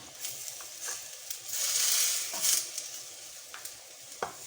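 Goat masala chops roasting in a pan, a soft steady sizzle that swells in the middle, broken by a few light scraping and stirring taps, close up and fairly quiet with no talking.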